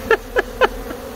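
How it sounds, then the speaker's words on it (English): Bees from a nest in a tree give three short, loud, close buzzing bursts in quick succession, then a fainter hum. "Check out the old sack. The bee sack."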